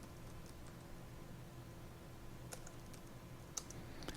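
A name is typed on a computer keyboard, producing a short, sparse series of quiet key clicks with a slightly sharper tap near the end, heard alone.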